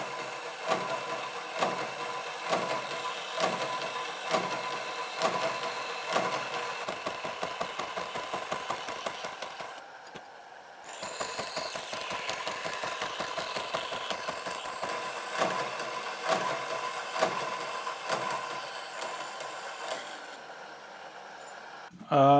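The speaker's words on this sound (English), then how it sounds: "So let's go to bandsaw and remove those two large pieces." A worn bandsaw blade cuts pieces off a metal taper gage, a faint steady mechanical whir with rapid rhythmic ticking, pausing briefly midway before continuing, with a voice speaking over it at times.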